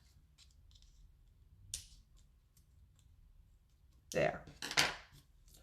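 Scissors snip through paper while making a Christmas card, a few crisp separate cuts, the loudest two close together near the end, with a brief word spoken and quiet background between.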